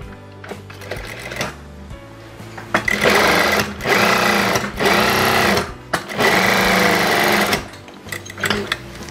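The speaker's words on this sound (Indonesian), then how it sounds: "kita jahit bagiannya obrasan" Sewing machine stitching along the overlocked edge of a double-welt trouser pocket, running in several loud bursts of rapid mechanical whirring with short pauses between, close up.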